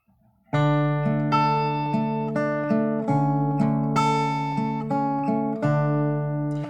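Fingerstyle guitar plays the melody of a song with chords added on top, a steady, clean rhythmic strum of bright plucked notes, close and loud with no voice over it.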